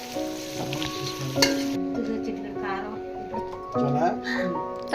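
Whole biryani spices sizzle and crackle in hot oil with ginger garlic paste as they are stirred, a steady frying hiss running beneath a woman's speech that continues throughout.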